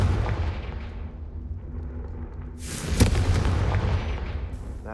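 Confringo blasting spell in the video game Hogwarts Legacy, a deep booming explosion that swells into a sharp bright burst and a rumbling tail over low ambient game sound.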